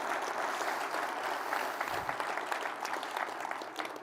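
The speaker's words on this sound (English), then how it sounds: "let's give the Secretary one more big applause" Conference audience applauds at a morning keynote, a continuous wash of clapping from a sizable crowd for about four seconds.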